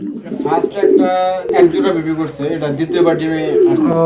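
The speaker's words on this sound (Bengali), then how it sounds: "এখানে রয়েছে এক জোড়া কিং কবুতর" A pair of king pigeons coo in soft, rolling, repeated calls close by, mixed with someone talking over them.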